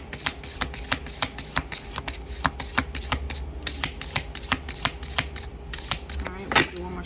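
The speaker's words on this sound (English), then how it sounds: "All right, we'll do one more shuffle." Tarot cards being shuffled in quick riffles and taps, a steady crisp flutter repeating close by, with a soft bump near the end.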